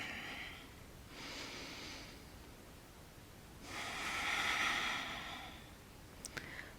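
Slow yoga breathing while standing in mountain pose, two soft breath sounds followed by a longer, louder exhale, close and quiet, with a faint rustle at the end.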